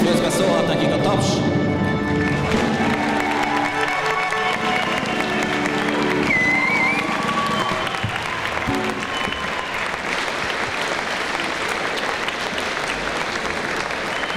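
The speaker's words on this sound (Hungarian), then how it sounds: "Közben szólhat nekik a taps." Sustained crowd applause at a school graduation ball fills the room steadily throughout, with some voices and background murmur mixed in.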